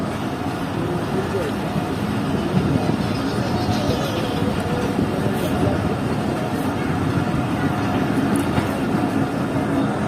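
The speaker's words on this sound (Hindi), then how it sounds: "दोनों मुंजी रोड एक्सप्रेस एक साथ निकल रही हैं सादाबाद रेलवे स्टेशन से" Two Moenjodaro Express trains pull out of Sadabad railway station together in rural Sindh, a continuous low rumble of rolling coaches and wheels with a voice talking over it.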